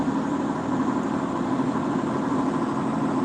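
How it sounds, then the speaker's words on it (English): A loud truck engine droning steadily from inside the cab, a dense low rumble with no pauses and no talking. "Because my truck on the inside is loud."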